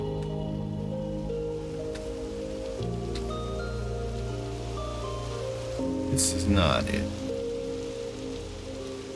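Rain falls in the Minecraft video game as a steady, even hiss, with game music tones underneath and a person speaking briefly partway through.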